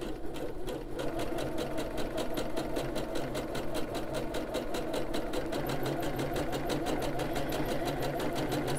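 A sewing machine stitches pants into convertible capris with a fast, even mechanical run that holds steady and close throughout, with no talking.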